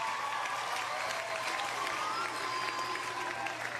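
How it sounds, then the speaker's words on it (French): A children's TV game show studio audience claps steadily for a team being introduced, a soft even wash of applause with a faint tonal backing underneath. "applaudissez Bobby et Skitter"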